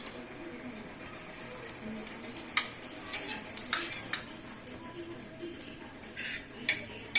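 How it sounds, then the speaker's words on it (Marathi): Grated coconut dry-roasting in a pan while being stirred: faint, quiet scraping with scattered spatula clicks and light taps against the pan, spaced irregularly and soft throughout. "आता आपण खोबरे भाजून घेणार आहोत"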